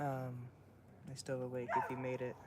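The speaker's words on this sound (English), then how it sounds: "sorry about the dogs barking in the background." Dogs at a dog musher's house in Alaska yip and whimper in short bursts, mixed in with nearby talking that dominates the clip.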